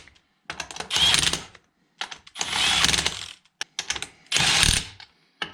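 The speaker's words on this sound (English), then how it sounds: "So now I'm using my 3/4 socket. Just gonna snug them up in a star pattern." A 3/4 socket ratchet snugs up bolts in a star pattern: four bursts of rapid clicking pawl ratcheting, close and loud, separated by short pauses and quieter handling clicks.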